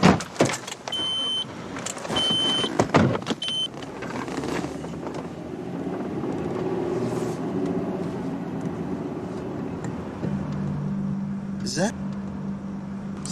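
A car passes outdoors, its engine and tire noise swelling into a broad, steady roar that then settles into a lower, sustained hum, with scattered knocks and muffled voices early on.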